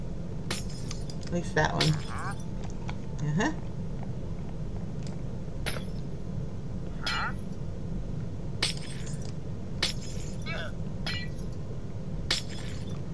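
Glass blocks shatter several times in a Minecraft game, giving short bright breaking crunches scattered over steady background noise while someone talks over them.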